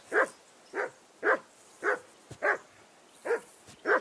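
A hound barking in a medieval village scene of Kingdom Come Deliverance II, a steady series of seven or eight evenly spaced, close barks alone without talk.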